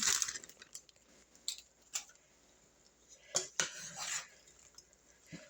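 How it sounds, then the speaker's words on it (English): A utensil stirs mushrooms and cauliflower in a pot for vegetarian lasagna, giving a few sharp metallic scrapes and clinks against the pan at irregular intervals, with quiet gaps between them. "And I'm going to stir it"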